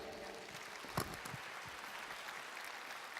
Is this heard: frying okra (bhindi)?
no